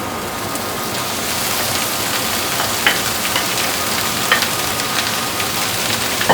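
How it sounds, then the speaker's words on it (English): Onions and flaked tuna fry gently in a pan for tuna kedgeree, a steady crackling sizzle with scattered sharper pops, close and even throughout, no voices. "you want to fry that gently for 3 minutes"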